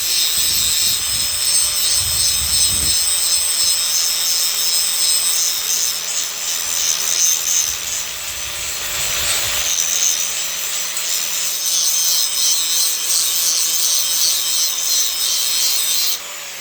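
Metal trailer brake parts being ground with a power tool: a continuous, loud, harsh abrasive rasp with bright high hiss, steady for over fifteen seconds with slight variations in pressure, stopping at the end.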